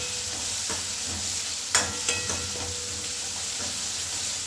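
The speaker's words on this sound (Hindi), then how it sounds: "पहले हम इसे चला लेते हैं" Tomatoes frying in a pan for Gujarati dal sizzle steadily while a spoon stirs them, with a few clear scraping knocks against the pan, close and without talk.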